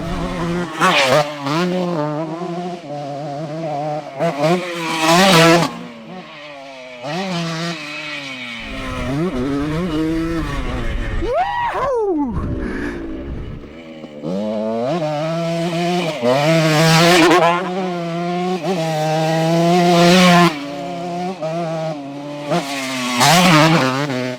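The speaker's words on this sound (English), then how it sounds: "On the 125 that helped change the motocross world." A 50-year-old 125 cc two-stroke motocross dirt bike engine runs loud and close, revving up and down repeatedly with rising and falling pitch and a brief lull in the middle.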